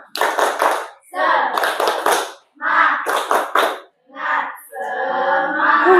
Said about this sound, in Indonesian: coba tepuk semangat dulu